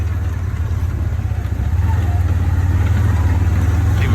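A ranch tractor engine runs steadily with a low, throbbing drone while its tire pushes fresh gravel into the soil, close and continuous, with a slight rise in load partway through.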